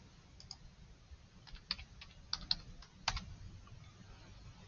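A few scattered keystrokes on a computer keyboard, quiet and close, tapping out in small sparse clusters over a faint steady background hiss with no speech.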